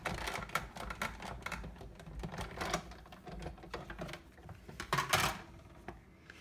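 A Big Shot die-cutting machine runs a paper through an embossing folder, giving rapid, uneven mechanical clicks and ratcheting ticks close by, with a louder clatter near the end.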